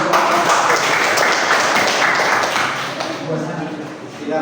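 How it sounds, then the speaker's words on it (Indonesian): Dense classroom applause from a group of students, a continuous crackle of many hands clapping that holds steady for several seconds and then thins slightly toward the end. "Beri tepuk tangan."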